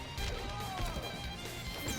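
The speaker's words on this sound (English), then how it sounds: "that final hammer smash has a knockback effect to it" Hammer smash in Marvel Rivals, a sharp crashing impact with a whooshing swing and a metallic ring, close and punchy, set among game effects while a voice talks quietly underneath.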